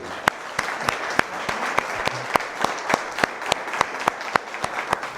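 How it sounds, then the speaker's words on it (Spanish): Audience at a book presentation bursts into steady applause, with a few sharp, regularly spaced claps standing out above the continuous wash of clapping, sustained and fairly close throughout. "Brindémosle un fuerte aplauso."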